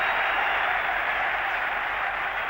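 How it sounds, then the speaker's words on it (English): Roaring stadium crowd at a Manchester United versus Manchester City football match cheering a goal, a dense, steady wall of noise held loud and unbroken throughout, with no clear voices standing out. "The crowd are going mad."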